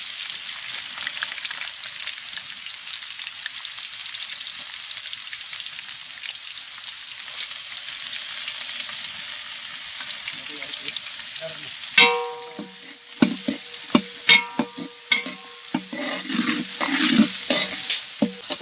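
Curry leaves, onion and green chili hit hot oil in a pan at an outdoor riverside cook, a steady sizzle that turns into loud crackling spatter and stirring clatter partway through, with no talking.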